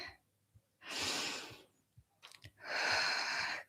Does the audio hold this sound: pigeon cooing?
no